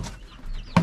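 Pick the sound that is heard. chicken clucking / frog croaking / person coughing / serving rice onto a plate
chicken clucking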